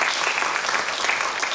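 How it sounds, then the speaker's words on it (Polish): An audience at a film event in Jarosław gives steady, dense clapping that fills the short stretch without pause. "także wielkie brawa"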